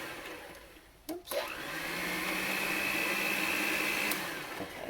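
An electric mixer whirring through chocolate snowball cookie batter, a steady mid-level motor hum with a brief interruption near the start, alone without talk.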